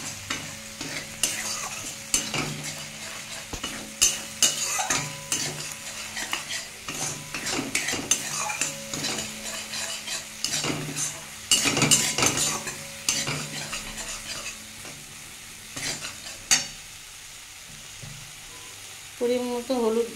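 Fish roe with potato and pointed gourd being sautéed with turmeric and cumin, a spatula scraping and stirring the pan in irregular bursts over a soft sizzle, with clanks of utensil on metal and quieter stretches near the end.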